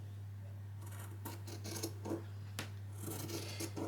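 Scissors snip through fabric seam allowance close to a line of stitches. The cuts come as a few soft, irregular rasps and crisp snips over a steady low hum.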